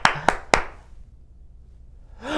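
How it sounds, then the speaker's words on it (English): Three sharp, close hand claps in quick succession at a children's magic show, followed by near silence before a voice begins at the end. "A warm round of applause for my Uncle Fumbernutter the magician"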